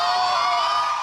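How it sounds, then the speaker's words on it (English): A crowd cheers for Meghan Markle at a public engagement, a brief, loud wash of high shrieks and whoops held steady for about a second. "The crowd is going crazy for Meghan at engagements."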